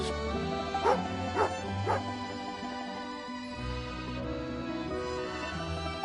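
A dog in the Genshin Impact video game eats jerky, letting out several close, high whimpers and yips early on, followed by a steady game background hum.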